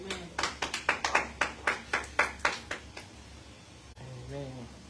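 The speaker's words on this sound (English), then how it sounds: "Let's give the Lord a great big hand clap." A small group in church claps hands in a loose, irregular series of about a dozen sharp claps over a few seconds, then stops as a voice begins speaking.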